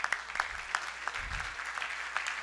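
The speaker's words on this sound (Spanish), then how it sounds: "Un aplauso para ellos, por favor." Audience applause at a mining safety award ceremony honoring an underground-category winner, a moderate spread of clapping with a few sharper nearby claps, steady and fairly soft, with a brief low voice murmur partway through.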